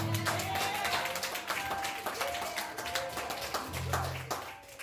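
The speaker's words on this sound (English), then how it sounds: "Give him a hand clap" A church congregation claps hands together, brisk layered clapping with a few voices and low organ tones mixed in, fairly close and continuous.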